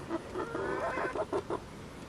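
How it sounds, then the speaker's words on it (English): Chickens clucking inside a coop as they shelter from an approaching thunderstorm, a few soft, quiet clucks and short calls in an irregular rhythm close by, with no talking. "Here comes all the chickens inside of the coop."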